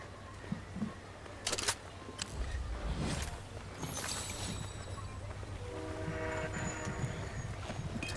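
A train in the game Fortnite rolls past with a rising rumble and clatter, a horn blast sounding toward the end over continuous rail noise, with no talking.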